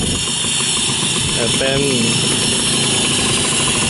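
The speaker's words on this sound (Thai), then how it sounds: "เครื่องยนต์พิเศษเลยครับเครื่องยนต์ยันมาก" A Yanmar-engined pickup truck runs at a steady idle, a loud continuous rumble, while someone talks over it.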